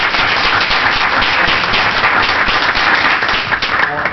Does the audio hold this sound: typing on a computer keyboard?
no